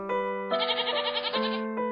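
A billy goat in an animated comedy story gives one sustained, wavering, nasal bleat lasting about two seconds, clear and close with no talking over it.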